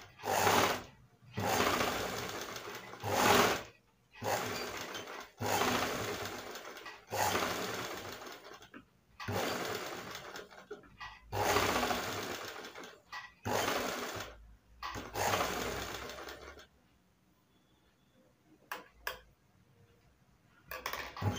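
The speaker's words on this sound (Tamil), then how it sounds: "இப்போ நான் இந்த ஓரத்துல தைச்சிருக்கேன், இப்போ இந்த ஓரத்துல தைக்கணும்" A sewing machine runs in repeated bursts of about a second or two as it stitches along the edge of a garment, close and steady, with short pauses between runs and a quieter stretch near the end.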